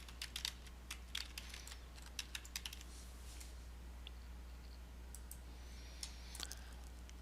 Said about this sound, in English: I can click into this name box and I can rename it.